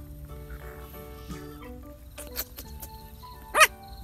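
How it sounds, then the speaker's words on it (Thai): Young Bang Kaew puppy letting out a single sharp bark near the end, close and loud above a quiet background of soft rustling and faint animal sounds. "มีเห่าตอบด้วย"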